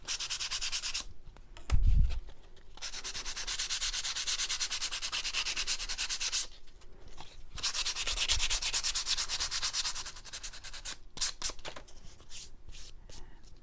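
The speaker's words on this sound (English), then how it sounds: "if you're sanding like dark pieces like this" Long stretches of close, steady sandpaper rasping against dark-painted wood, broken by short pauses and a dull knock, continuing in rhythmic back-and-forth strokes.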